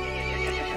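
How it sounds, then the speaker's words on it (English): A horse in the video game Resident Evil Village gives one loud, close, quavering neigh that lasts under a second, with no other sound around it. "The horse grew angry and summoned the other monsters."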